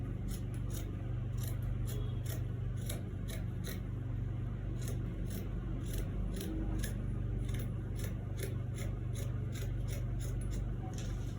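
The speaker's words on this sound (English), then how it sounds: "from here now, we're going to cut all the way down to the bottom" Scissors cut through fabric for a bustier gown in a steady run of crisp snips, close and regular, over a constant low background hum.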